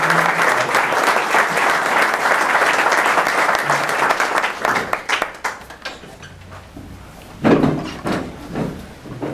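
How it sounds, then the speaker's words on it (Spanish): An audience in a lecture hall applauds the speaker of a talk on Juárez, Cuba and Freemasonry, a full steady clapping that thins out midway into scattered claps, thumps and shuffling. "Démosle un aplauso a nuestro conferenciante."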